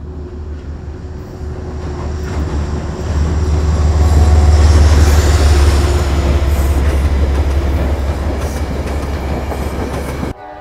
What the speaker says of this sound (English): I gotta go shoot the train coming at the camera